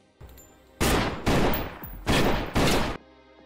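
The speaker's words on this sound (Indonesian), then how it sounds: "Baku tembak pun terjadi." Loud bursts of rapid gunfire erupt in four dense volleys, each about half a second long, with short gaps between them, during a shootout in a film.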